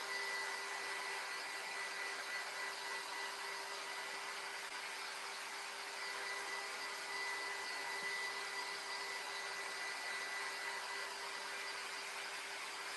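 A dryer blows steadily over a kitchen cutting board sign, a constant close whooshing hum with a faint whine, running unbroken and without talk.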